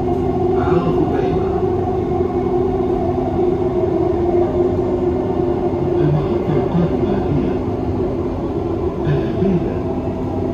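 Dubai Metro Green Line train running between stations, a steady loud rumble of wheels and motors inside the car with occasional faint rattles.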